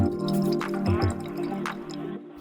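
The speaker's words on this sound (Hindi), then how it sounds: "तेल डालेंगे" Oil is poured as a cooking step, giving a close, soft liquid dribble and drip that runs steadily for a couple of seconds.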